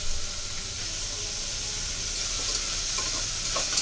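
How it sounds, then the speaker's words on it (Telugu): Chopped large onions and green chilies frying in oil for a mutton gravy curry, a steady close sizzle and hiss with faint stirring scrapes near the end. "ఉల్లిపాయలని బాగా మగ్గనివ్వాలండి."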